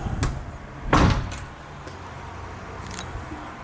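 A door pulled shut inside an abandoned bungalow, one solid thud near the start followed by a fainter knock, with low rumble of passing traffic behind.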